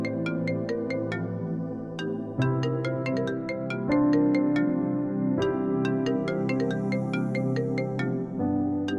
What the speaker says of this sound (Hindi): निशा, निशा तुम मेरा फोन क्यों नहीं उठा रही?